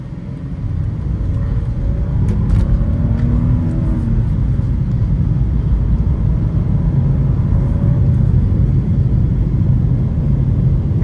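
A 2024 BMW M2 with a manual gearbox heard from inside while driving, its engine and exhaust as a steady low rumble under road and wind noise, with a few subtle shifts in pitch and no talking.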